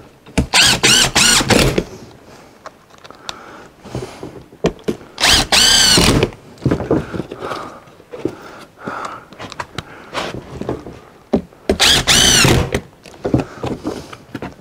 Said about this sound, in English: Just use 1 5/8 screws to screw this down with.